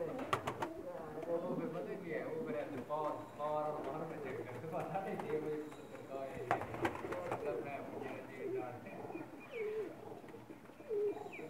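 Pakistani racing pigeons, flying females, coo in soft repeated throaty calls close by, while someone talks over them throughout.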